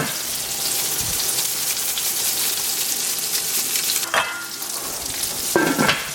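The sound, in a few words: food frying in oil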